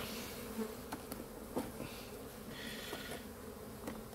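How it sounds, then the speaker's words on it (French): Steady low buzzing of many honeybees at an open hive, continuous and fairly close, with a few soft knocks and rustles of hive frames being handled. "Alors attention aux abeilles"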